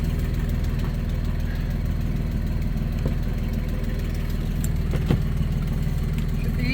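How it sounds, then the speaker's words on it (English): A 1998 Dodge Dakota engine idles steadily with a slight exhaust leak, a continuous low rumble with faint ticking and one brief clack near the end, close by with no talk. "you can hear it sounds like there's a little bit of an exhaust leak"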